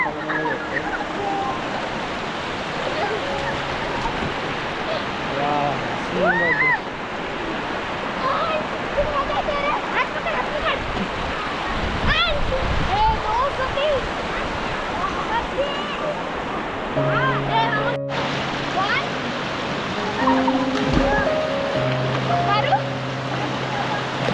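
Water rushes and roars continuously in a broad, steady wash over the Ullas River barrage at Badlapur, while people talk over it at times.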